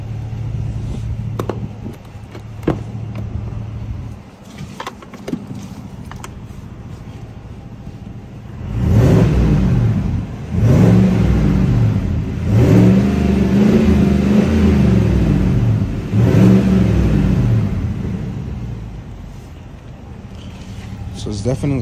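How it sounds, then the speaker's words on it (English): A car engine with a Magnaflow exhaust idles, then revs several times in strong rising-and-falling bursts with a deep exhaust roar, settling back to a steady rumble. "So I'm gonna give it a couple revs and you guys can tell me what you guys think."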